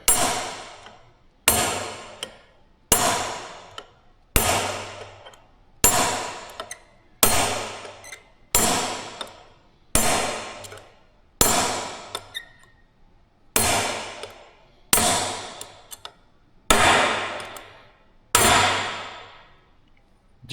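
A hammer taps a steel punch against a steel bearing during a Caterpillar D4 dozer clutch rebuild: about fourteen sharp, ringing metallic strikes, evenly spaced and close, each fading quickly, with no talk.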